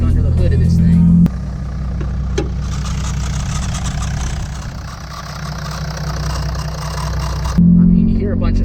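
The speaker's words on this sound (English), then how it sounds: "getting a closer look at it, we found that our turbo, variable geometry turbo actuator motor has gone bad on us" A diesel Jeep engine idles with a failing variable geometry turbo actuator motor, which adds a rough scratching, chattering noise over the steady low hum through the middle stretch before the plain idle returns.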